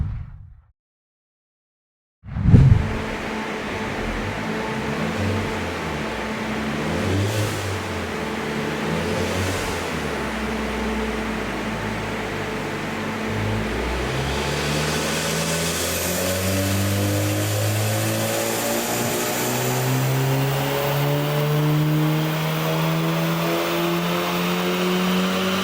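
Volkswagen Golf R with methanol injection through a 10 nozzle on a dyno, engine loud and steady from start to finish, climbing in pitch through a full-throttle pull after a short silent opening.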